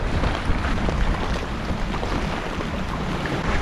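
Strong wind sweeping across a wilderness lake churned to whitecaps, a loud, steady roar of broadband noise with buffeting gusts and waves, with no voices present.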